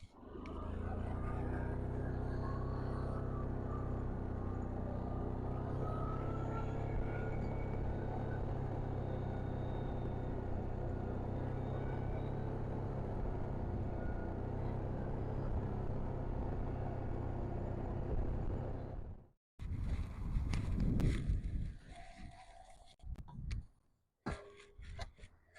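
A skid steer loader drives steadily during garden prep, its engine a continuous low rumble for about twenty seconds before it cuts out, followed by a few scattered knocks and clatters.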